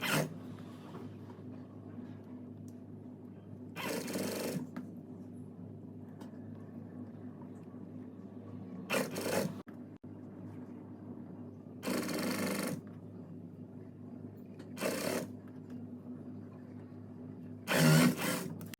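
A sewing machine stitching fabric triangles onto trouser or palazzo hems runs in short separate bursts, about six runs of steady mechanical whirring with quiet pauses between, close by.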